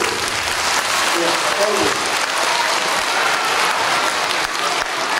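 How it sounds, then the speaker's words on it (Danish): Audience clapping steadily and fairly loudly in a room during a live show, a continuous crowd applause with someone briefly speaking over it near the start. "Ja, I må klappe, hvis I vil."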